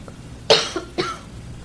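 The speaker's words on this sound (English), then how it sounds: "I'm just having a choking, coughing attack while we're doing this." A couple of sharp coughs in quick succession, close and fairly loud, over a quiet background with no speech.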